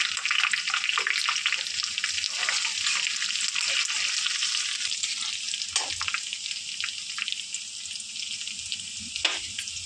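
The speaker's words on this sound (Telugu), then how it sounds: "వెల్లుల్లిపాయలు ఎక్కువ ఫ్రై అవ్వకర్లేదండి బ్రౌన్ అవ్వద్దు" Crushed garlic, curry leaves and asafoetida frying in oil for tomato pachadi, a close, continuous crackling sizzle with scattered sharper pops and a few scraping stirs.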